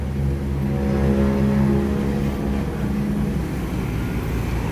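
A Slamet intercity bus engine rumbles steadily as the coach pulls into a bus terminal, with a loud, continuous low drone and a slight rise in revs, no voices heard.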